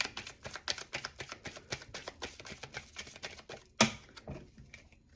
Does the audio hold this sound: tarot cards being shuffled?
yes